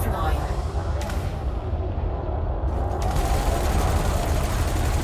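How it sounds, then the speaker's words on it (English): Sustained multi-cannon fire in the Elite Dangerous Odyssey space combat game, a dense continuous rattle of rapid shots with heavy low rumble, loud and steady throughout. "Shields are down and we're putting fire downstream with the old multi-cannons"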